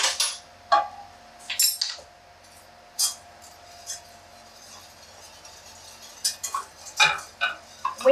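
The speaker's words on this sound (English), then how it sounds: "And then I'm going to grab a whisk" A whisk clinking against a bowl in a home kitchen while baked salmon is prepared, with sparse light metallic ticks and scrapes at uneven intervals over a quiet background.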